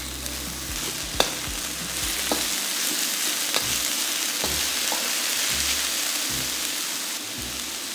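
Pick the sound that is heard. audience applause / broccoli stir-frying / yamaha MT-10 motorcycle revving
broccoli stir-frying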